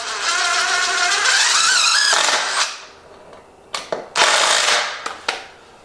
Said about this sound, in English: I will secure it to the back with just a screw.